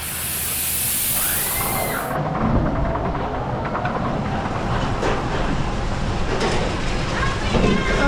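Twisted Typhoon, a suspended looping coaster (SLC), on a ride at Wild Adventures: a loud, continuous roar of train and rushing wind close by, with a sharp hiss at the start, and no talk over it.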